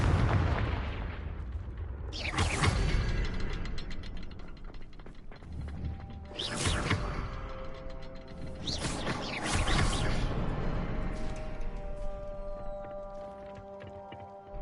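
Confringo fire spell blasts in Hogwarts Legacy, three heavy booming explosions spaced a few seconds apart, each with a crackling burst and rumbling tail, over a low game ambience with tonal music; no talking.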